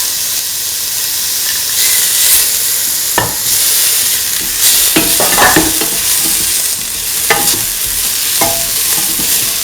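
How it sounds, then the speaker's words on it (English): Tomato pieces added to a hot cooking pan fry with a loud steady sizzle and hiss, broken by a few scraping stirs of a spoon, close and continuous with no talking. "Now putting the tomato pieces."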